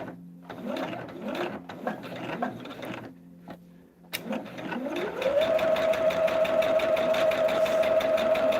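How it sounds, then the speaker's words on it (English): A sewing machine stitches at normal stitch length along a solid line on star table runner fabric, starting with short stop-start bursts, then running in a loud, steady, continuous whir after a quick spin-up. "we're gonna sew down this solid line right here"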